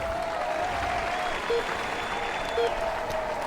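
Simulated roadside crowd applauding a rider on the start ramp of a time trial in the Tour de France 2015 video game, a faint, steady clapping murmur with occasional voices and soft tones over it.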